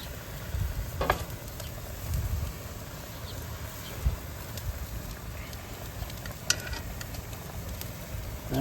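Pork belly with thyme sizzles and bubbles in its own fat in a pot on a charcoal BBQ grill, a soft, steady crackle with occasional stirring clinks and scrapes.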